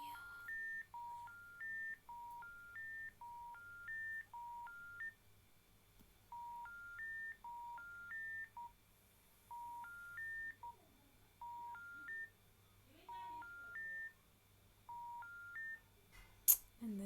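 A telephone in the video game Hello Neighbor gives off repeating electronic beeping tones. They come in quick stepped phrases with short pauses between them, are quiet and steady over a low hum, and end with a sharp click.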